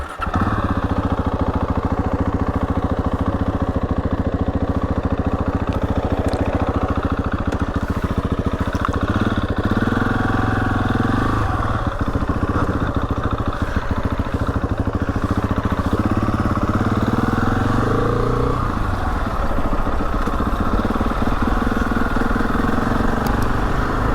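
A Husqvarna 701 motorcycle engine runs steadily for the whole stretch, a loud close mid-pitched drone with a few small shifts in revs and no pauses.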